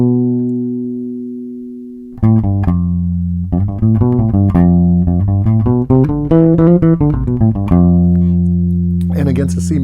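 Bass guitar arpeggiates through F Lydian over a sustained low note, a run of clear plucked notes at a steady rhythm, played up close and alone with no talk, ringing out toward the end.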